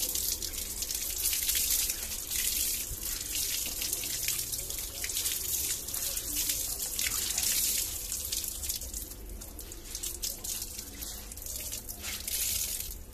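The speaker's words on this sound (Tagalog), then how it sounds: "makikita nyo yung agos ng tubig, oh" Tap water runs and splashes steadily into a basin as laundry is rinsed, a continuous close hiss and gush with faint drips, no talking.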